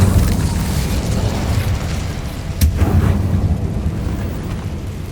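Incendio fire spell cast in the Hogwarts Legacy video game, a deep rumbling boom over a sustained low roar, with a sharper burst near the middle before the roar fades slowly.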